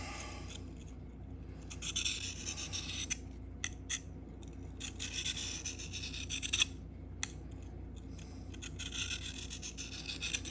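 A knife edge is drawn across a Sharpal field sharpener in repeated rasping, scraping strokes, close and moderately quiet, with short gaps between passes.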